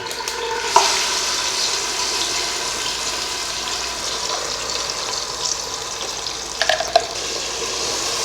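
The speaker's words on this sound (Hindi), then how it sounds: "इसमें अदरक लहसुन और साथ में टमाटर, प्याज और हरी मिर्च का पेस्ट। इसे हम भून लेंगे।" A ginger-garlic, tomato, onion and green chili paste fries in cooking oil with a steady, close sizzle and bubbling. A few sharp clinks and scrapes of a spoon against the pot break in, and no one speaks.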